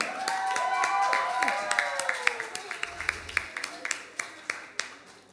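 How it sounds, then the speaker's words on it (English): A small live concert crowd breaks into scattered, uneven clapping that builds into a rhythmic run of claps, with a voice speaking over it near the start. "Big applause dong."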